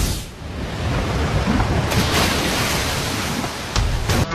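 An anime water-style jutsu unleashes a rushing waterfall torrent, heard as a loud, dense roar of crashing water that swells and surges for several seconds without speech.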